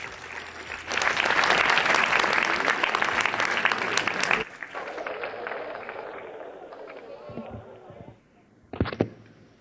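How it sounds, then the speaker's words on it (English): Audience applause welcoming the Governor at a National Voters' Day event in Chennai's Kalaivanar Arangam, a loud sustained burst of clapping for several seconds that tapers off, with a brief voice over the hall near the end. "Can we give a round of applause and welcome him?"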